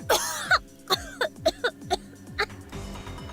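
A woman coughs in a fit of about eight harsh bursts, some strained and gasping, then fades into a low rustle, from the video game Steins;Gate.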